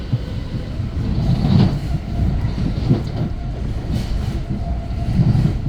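An Exo commuter train rolls along the rails near Montreal with a steady low rumble and rhythmic clacking of wheels over joints, moderately close, no voices.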